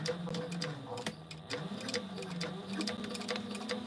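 A sewing machine runs a short back stitch on the top stitching of a fabric pouch, a quick rattling burst of needle strokes that pauses and resumes, close and fairly loud.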